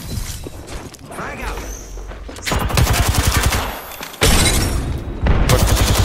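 Loud, close automatic gunfire in a team shooter video game, with rapid rhythmic bursts that grow heavier and more sustained in the second half, while players talk over the shooting.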